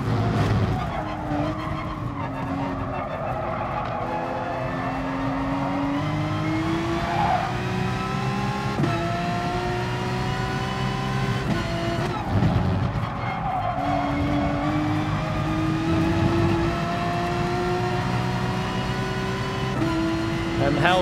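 A Porsche in the racing video game Gran Turismo Sport revs and drones steadily through a corner, its engine pitch sweeping up and down with gear changes and tire squeal, while a person talks over it throughout.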